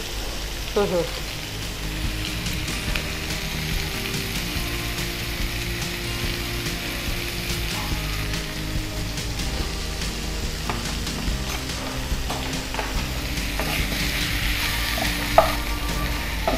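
Onion and green chilli fry with turmeric and salt in a pan for a chicken pepper fry, giving a loud, continuous sizzle with scraping stirs and occasional clanks.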